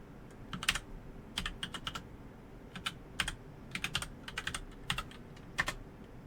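Someone types a password on a computer keyboard, a quiet, close run of irregular key clicks in small bursts over soft room hum.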